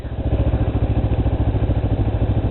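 A neighbor's small Suzuki Katana motorcycle runs close by with a loud, steady pulsing engine beat, a rapid regular throb that holds throughout without fading.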